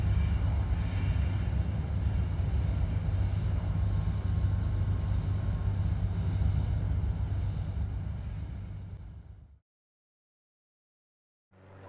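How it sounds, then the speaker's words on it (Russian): Cruise ship at sea: a steady, heavy low engine drone with broad wash and wind noise, holding constant for about nine seconds before fading out, then a brief return at the very end. "Круизное судно."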